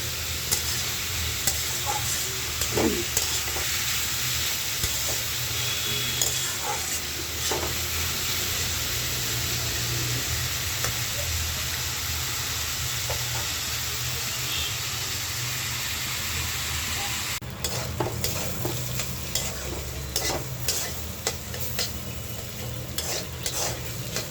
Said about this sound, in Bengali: এখানে সিম দিয়ে আলু দিয়ে ভাজি করতেছি